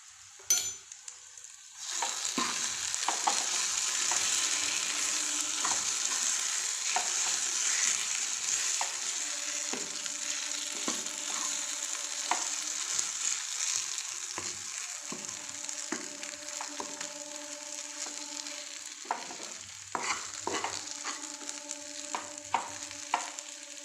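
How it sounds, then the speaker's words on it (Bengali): Green pea filling for kachori, salted, stirred in a pan over low heat: a steady close sizzle of frying with repeated soft scraping strokes of a spoon throughout, no voices. "তো আমি এটা কম আঁচেই এটা নাড়াচাড়া করব"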